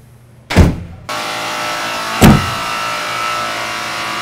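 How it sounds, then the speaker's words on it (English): Van doors fitted with a Legend SecuriLock van lock shut with two loud, close metallic slams about two seconds apart, each followed by steady low background noise. "you're gonna close the doors."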